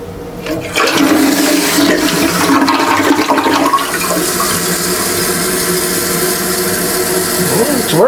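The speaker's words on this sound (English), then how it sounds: "let's give it a flush and see what it looks like" A newly installed toilet with its tank lid off flushes loudly up close, a rushing surge of water that then settles into a steady hiss of the tank refilling, with no talking.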